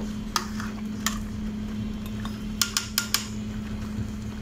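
A spoon scrapes and clinks against a pot of beef curry with potatoes during stirring, a few sharp metallic taps over a steady low hum, fairly faint and with no talking.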